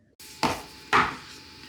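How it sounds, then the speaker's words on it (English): A knife chops through scrubbed potatoes on a board, two sharp, close thuds about half a second apart, with no other sound around them. "I have a knife, so let's get chopping these potatoes."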